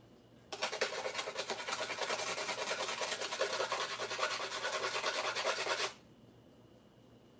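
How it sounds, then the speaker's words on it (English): Dishes being scrubbed with a handheld scrubber at a kitchen sink, a steady close rasping rub that runs continuously for several seconds before stopping abruptly. "I want to try scrubbing with the Palmer."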